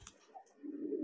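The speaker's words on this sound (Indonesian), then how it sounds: "Nah, ini merpatinya nih." A giring pigeon coos once softly and close, a low murmuring call rising near the end in an otherwise quiet space.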